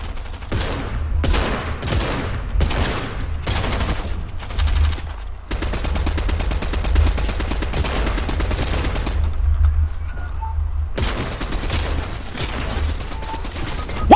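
Rapid automatic gunfire in Fortnite Battle Royale comes in dense, loud bursts with brief gaps, sustained fusillades running most of the time, close and dominant with no talk.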